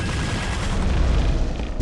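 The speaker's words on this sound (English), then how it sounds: "There is also the rapid rocket launcher, when those times when one missile is just not enough" A rapid-fire rocket launcher in a Quake 2 mod unleashes a dense, loud barrage of launches and blasts, a continuous rumbling boom with no pauses or voices.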